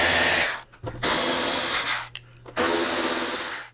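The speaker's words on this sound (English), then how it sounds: "use the same Torx 27 to remove 3 screws on each side of the fairing" Power driver whirring in bursts while backing out Torx 27 screws from a motorcycle fairing, two long loud runs separated by brief pauses and a short blip, close up with no talk.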